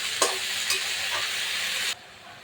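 Bottle gourd greens frying in a pan, a loud hissing sizzle with a few stirring scrapes that stops abruptly near the end.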